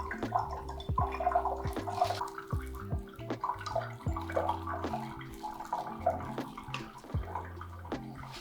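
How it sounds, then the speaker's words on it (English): Homemade tepache, fermented pineapple skin drink, poured by ladle through a funnel lined with cheesecloth into glass bottles, with several short splashing pours and liquid gurgles alongside clinks and rhythmic low tones, close and moderately loud. "I'm going to ladle it into these glass bottles with the help of a funnel and some cheesecloth"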